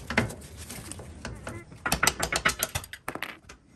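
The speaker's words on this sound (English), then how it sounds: "Let's see if we can remove this bolt now." Ratchet wrench working a bolt loose on a first-generation Toyota Tundra during an off-road package install in a garage, a burst of rapid, close metallic clicks in a steady rhythm after a few scattered earlier clicks.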